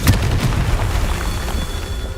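A Confringo spell explosion in the video game Hogwarts Legacy: a loud, close boom at the start that rolls off into a sustained low rumble and crackling debris.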